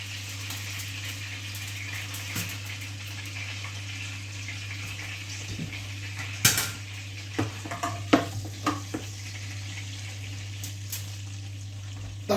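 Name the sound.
roast pheasant being put onto a tray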